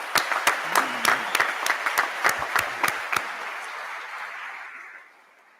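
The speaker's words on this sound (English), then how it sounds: "How about a round of applause for our new dean?" Applause at a business college ribbon-cutting ceremony, with distinct sharp claps from a small group in the hall that thin out and fade away toward the end.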